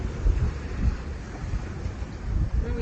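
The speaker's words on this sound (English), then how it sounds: "Oh, these waves are steep, eh?" Strong wind roars over rough, steep sea waves around a sailing boat off Vanuatu, a continuous loud rush of gusts and water with no break.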